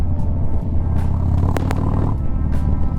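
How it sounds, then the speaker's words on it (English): Motorcycle with a new aftermarket exhaust rumbles steadily while being ridden, a loud, close, continuous low engine drone with slight revving swells and no talk. "The bike sounds great."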